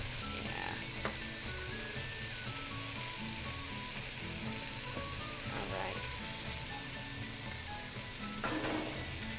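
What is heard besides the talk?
meat sizzling in enamel pan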